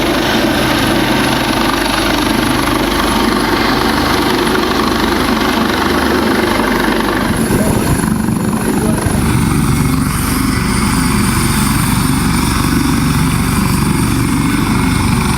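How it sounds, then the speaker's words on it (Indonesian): A Basarnas rescue helicopter operates during a flash-flood evacuation in Agam, West Sumatra, its engine and rotor noise loud, close and continuous throughout, with the low thumping character shifting partway through. "Basarnas kerahkan helikopter untuk evakuasi korban banjir bandang di Kabupaten Agam"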